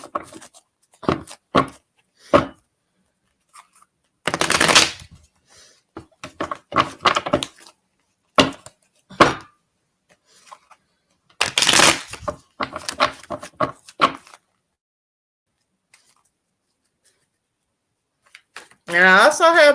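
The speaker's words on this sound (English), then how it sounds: "Ebony, I'm pulling your cards now" Oracle cards being shuffled and pulled from a deck, heard as a series of short papery riffles, flicks and soft thumps at close range, spaced out with pauses and a few louder bursts of card handling.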